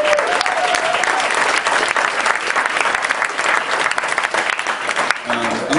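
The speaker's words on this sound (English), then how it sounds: "How about another round of applause for the panel?" Sustained, loud applause from a live audience after a panel discussion, a dense wash of many hands clapping continuously, with a voice briefly audible near the end.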